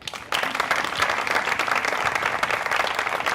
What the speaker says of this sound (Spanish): Se puede aplaudir.